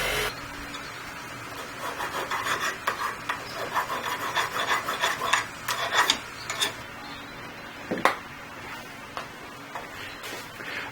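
Weld slag and extra metal on a motorized bicycle part are ground off, producing a steady, close abrasive rasping with uneven scraping strokes and a few sharper knocks throughout.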